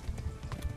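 Rhythmic hoofbeats of a galloping horse in the video game Kingdom Come: Deliverance, steady and close, with a low rumbling thud pattern repeating quickly.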